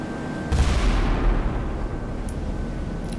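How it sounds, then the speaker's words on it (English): Heavy 11-inch naval guns of Scharnhorst and Gneisenau firing in the Sea Power naval warfare game against HMS Malaya: a deep booming blast hits at about half a second, then a long rolling rumble decays slowly. "firing with the 11 inches"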